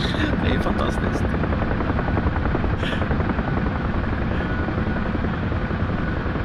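Helicopter flying in the DCS flight simulator game, a steady, loud rotor drone held without a break from start to finish.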